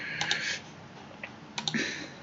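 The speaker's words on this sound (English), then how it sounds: "So let's see how we type this in." Quiet clicking of keys on a computer keyboard, two short bursts of typing separated by a brief pause, close and soft with no voices.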